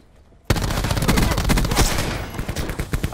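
Dense, loud gunfire in a search-and-destroy video game match, rapid automatic bursts kicking in abruptly after a brief quiet moment and rattling on continuously without a break.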